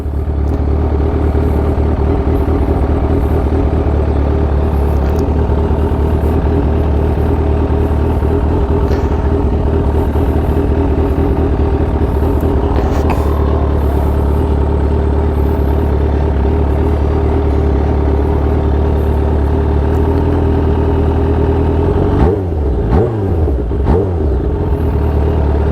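A Kawasaki Ninja H2 motorcycle engine rumbles steadily and loudly at a bike meet, a continuous low drone with no talking, shifting slightly in the last few seconds.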